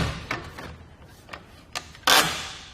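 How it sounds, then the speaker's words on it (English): The wheel strap on a RockyMounts MonoRail bike rack ratchets down in a few sharp mechanical clicks, close by, ending in a louder burst of ratcheting. "And we'll release that up, and then this just ratchets down."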